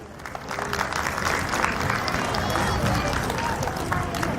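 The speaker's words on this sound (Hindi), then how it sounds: "अपनी जोरदार तालियों से स्वागत कीजिए" Dense, sustained applause from a large school audience at a Mother's Day celebration, steady and loud throughout with a busy murmur of voices underneath.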